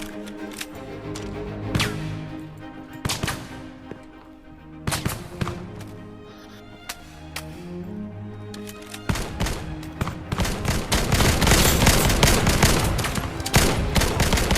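Gunfire in the VR shooter Vail on Meta Quest 2, fired from two guns at once: scattered sharp shots early, then a dense, loud, sustained burst of rapid fire near the end, close and dominant.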